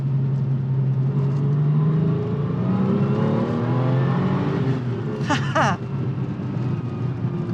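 New Porsche with a seven-speed manual gearbox revving loudly up close, a deep steady engine note that rises and sweeps up in pitch. A voice briefly speaks over it near the end.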